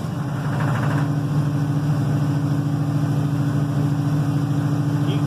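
A cold-started engine idling high on choke at about 1600 RPM: a steady, close, droning hum with a brief rougher catch at the start, then even running throughout without speech.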